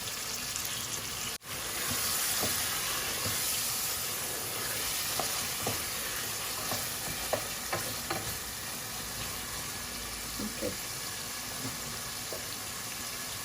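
Fish sizzles steadily in a hot pan with spices for a Sylheti sour amra curry, a constant frying hiss broken by scattered stirring clicks and scrapes, with no talk.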